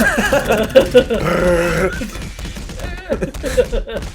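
A voice mimics a Gmod-style clipping clang, the metallic bang of a key touching up against something, as a burst of gravelly, buzzy vocal noise with a couple of sharp peaks over about four seconds.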